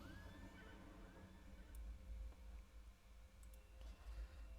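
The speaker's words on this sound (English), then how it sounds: "Let's summon my spooky horse." A spooky horse mount summoned in World of Warcraft gives a single faint, drawn-out whinny early on, set low under steady game ambience with no talking.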